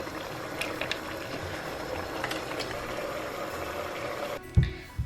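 Stock simmers with water in a covered pot on the stove, a steady soft bubbling hiss that runs continuously, then a couple of low clunks near the end.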